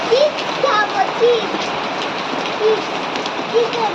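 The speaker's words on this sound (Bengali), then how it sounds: "বৃষ্টি পড়ছে" Steady rain falls on surfaces outdoors in Kolkata, forming a dense, even patter close by, while voices, including a child's, and a few short chirping sounds come through over it.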